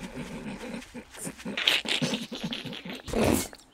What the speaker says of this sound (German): da knurrt irgendwas vor der Tür